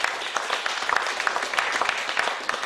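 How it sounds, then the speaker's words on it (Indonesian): A large audience at a televised national exam awards ceremony applauds, with dense, sustained clapping throughout. "Dengan tepuk tangan"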